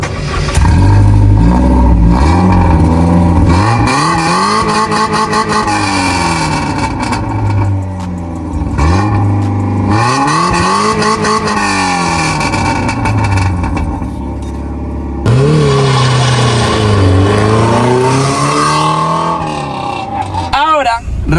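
A 2001 Peugeot 306 XS with a 1.8 L engine revs repeatedly, each rev rising and falling in pitch over several seconds, close and loud, with the idle settling between bursts.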